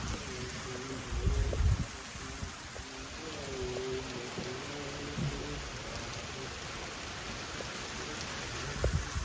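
Heavy rain pours over a village in the Sorath region, a steady close hiss of falling water with a few louder low thumps near the start and end.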